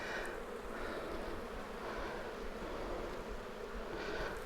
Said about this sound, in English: Man, there's a lot of bees.